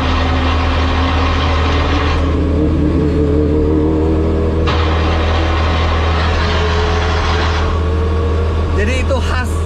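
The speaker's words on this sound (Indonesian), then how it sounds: "ada suara berisik, itu kopling kalau dilepas" Race car engine running in the cockpit with its racing clutch released, a loud, steady low drone with a rattling, grinding clutch noise that rises and shifts midway.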